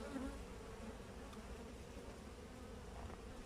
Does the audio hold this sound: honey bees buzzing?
yes